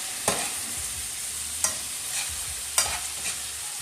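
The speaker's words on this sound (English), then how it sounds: "you want to turn and saute to get your spinach nice and sauteed there" Spinach sautés in a pan alongside steelhead trout, a soft continuous sizzle broken by three sharp scraping stirs of a utensil at roughly one-second intervals, with no voices.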